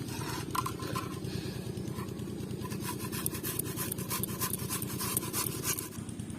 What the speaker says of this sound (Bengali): এই যে গ্রেটারটা নিয়ে এসেছি, এটা দিয়ে আমি আগে প্রথমে মানকচুটা ঘষে নেব।